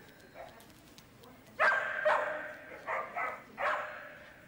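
Rescued shelter dogs barking: a handful of sharp, mid-distance barks and yips in an irregular cluster, with no talk over them.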